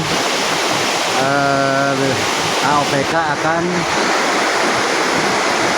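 Steady broadband rush of clear, cold flowing water in the Cianjur river near an old irrigation weir, continuous and loud throughout, with a person talking over it in the middle.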